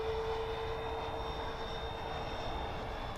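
A Freewing F-14 Tomcat RC jet with full flaps makes a touch-and-go pass, giving a steady, fairly distant electric ducted-fan whine and rushing drone that holds at an even level throughout.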